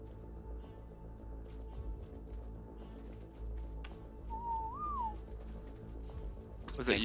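In the Ark survival video game, a single short whistle rises and falls in pitch, clear but brief. It sits over faint, low in-game ambience and scattered background noises.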